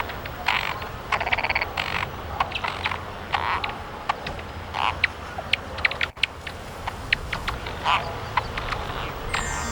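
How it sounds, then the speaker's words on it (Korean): Golden frogs (Pelophylax chosenicus) call in a wetland. Their soft, repeated creaking and ratcheting croaks come in uneven bursts from nearby over a constant low background hum. "금개구리 울음소리는 여느 개구리보다 작다."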